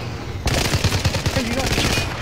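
Rapid bursts of automatic gunfire from the video game Powergrab, loud and close, starting abruptly and rattling on in quick repeated shots with excited player voices mixed in.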